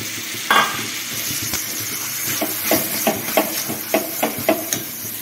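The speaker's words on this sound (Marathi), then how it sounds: "आता याच्यामध्ये मी शेंगा घालून घेते." Cluster beans stirred into a sizzling masala in a pan give a continuous close frying hiss, broken by a regular series of scraping spoon strokes in the second half.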